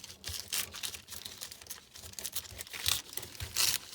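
Handmade faux rice paper being peeled off a surface, giving soft crinkling and tearing rustles that come in uneven bursts, close and fairly quiet, with no one talking.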